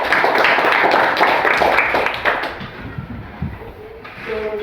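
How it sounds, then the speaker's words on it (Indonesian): Students in a classroom clap for a group, a loud burst of many hands that fades after about two seconds into scattered claps and room murmur. "Tepuk tangan untuk kelompok 1."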